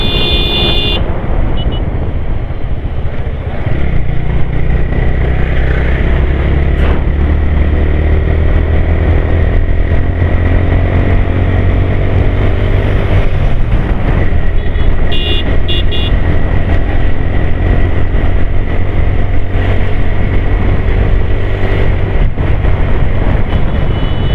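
Motorbikes on a tour along the road from Sylhet to Sada Pathor, a loud, steady engine drone with rushing wind and passing traffic, and a brief horn toot.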